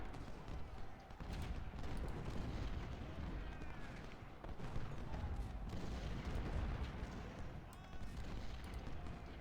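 Cannon fire from a Civil War artillery battery in a strategy game, at the Battle of Spotsylvania's Mule Shoe, rolls on as a continuous dense rumble of booms and volleys, loud and unbroken throughout.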